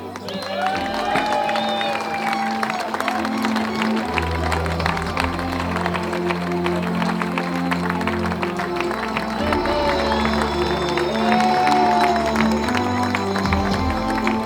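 At the Grand Raid trail race on Réunion Island, a big outdoor crowd keeps up steady applause and cheering for a finishing runner, loud and continuous, with music and voices running underneath.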